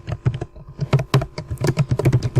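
Rapid typing on a computer keyboard while writing Python code, quick irregular clusters of crisp key clicks, close and clear with no voices.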